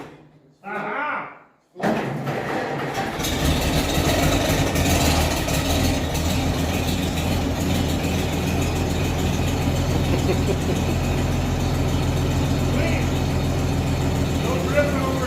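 1922 Rumely 16-30H Oil Pull tractor engine firing up after a short burst of speech, then settling into a loud, steady, close idle with a heavy low-frequency chug that continues unbroken.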